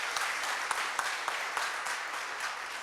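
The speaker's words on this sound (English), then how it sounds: "Give her another round of applause." Steady applause fills a faculty and staff awards luncheon, many hands clapping in a dense, even patter with a few sharper claps standing out, moderately loud and continuous.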